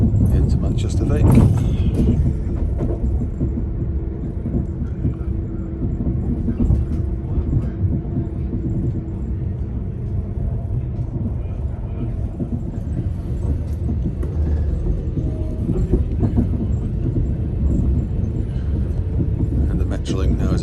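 A train arriving at Manchester Victoria station rolls downhill alongside other tracks, a continuous low rumble and rattle heard from on board, with a person talking over it throughout.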